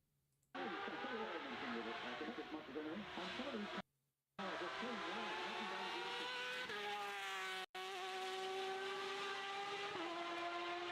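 A race car engine in the iRacing sim roars close and loud through repeated gear shifts, pitch climbing and dropping with brief cuts between shifts, heard on its own without talk.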